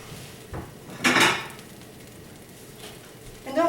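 A plate being taken out while eggs cook, ceramic clatters and a clear clink of dishes, one loud knock in the middle and another near the end over faint sizzling.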